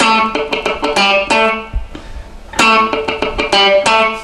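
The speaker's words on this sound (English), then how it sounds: "how to play dead notes or muted notes" An electric guitar plays a choppy funk riff, bright notes alternating with percussive muted scratches in a tight syncopated rhythm, repeated twice.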